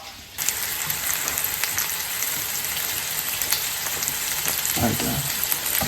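Beef searing in a pot for a stew-style pot roast, a loud continuous sizzle that starts abruptly and holds steady, with a few sharper spits and a brief clatter near the end, no talk.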